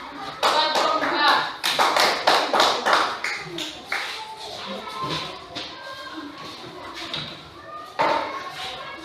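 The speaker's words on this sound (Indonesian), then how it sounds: "Kita beri tepuk tangan buat kelompok A" A classroom of fourth-grade pupils claps in applause for group A during a mathematics lesson, with bursts of hand claps in the first few seconds, quieter scattered claps after, another burst near the end, and voices talking throughout.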